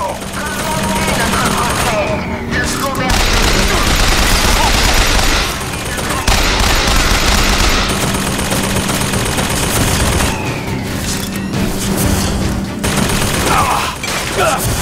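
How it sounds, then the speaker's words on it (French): Gunfire from Bioshock Infinite gameplay, loud sustained bursts of automatic weapon fire with booming impacts and a steady game ambience underneath, near and continuous across the clip. "Pas évident, elle a du recul quand même cette arme, hein."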